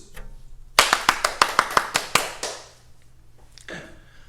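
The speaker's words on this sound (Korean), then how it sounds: "우리 한번 크게 영광의 박수를 한번 올려 드렸으면 좋겠습니다" A church congregation claps in unison during a sermon, about ten sharp, loud, evenly spaced claps in quick rhythm that then trail off into a quieter room.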